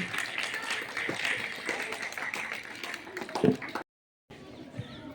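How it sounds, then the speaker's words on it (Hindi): Loud clapping from a school assembly audience welcoming a student at an Earth Day poem and speech competition. It is a dense, continuous patter for nearly four seconds, then stops abruptly with a few stray claps. "जोरदार तालियों के साथ समृद्धि का स्वागत कीजिए"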